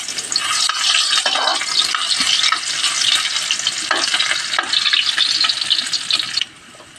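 Ginger frying in a pan for ginataang santol, stirred steadily: a loud, continuous hiss and sizzle with scraping of the spoon, close by, cutting out abruptly near the end.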